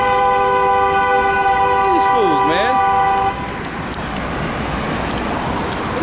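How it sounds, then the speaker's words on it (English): A car horn blares in roadway traffic as one loud, sustained honk lasting about three seconds before cutting off, leaving steady traffic noise while someone speaks briefly. "He's over here honking at me."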